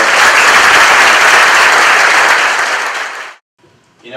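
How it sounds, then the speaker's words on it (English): Loud, dense applause from an audience honoring hotel staff, sustained for about three seconds before fading quickly, with a voice beginning to speak at the very end. "Let's give them a round of applause."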